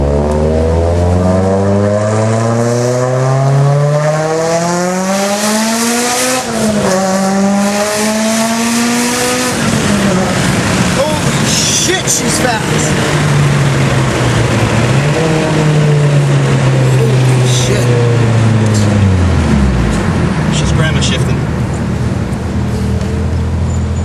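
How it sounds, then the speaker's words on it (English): A Mitsubishi Evo 8 with a GT35R turbo on a stock ECU, running 23 psi of boost, revs loudly and repeatedly up and down for over twenty seconds, close by and with no talk. "Yeah, 23 pounds of boost."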